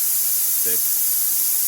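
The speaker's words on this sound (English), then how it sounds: "we'll count how many seconds it takes before that air stops cooling the nozzle" Steady post-flow air hisses through the nozzle of an Arccaptain Cut 55 plasma cutter after the trigger is released, a constant close airy rush that continues under a single spoken count.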